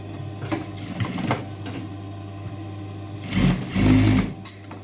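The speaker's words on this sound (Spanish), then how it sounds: "se debe coser con la máquina overlock de 5 hilos" Five-thread overlock sewing machine stitching a jeans seam: a steady close mechanical whir with rapid needle ticking, briefly easing, then surging louder as it runs up to speed near the end.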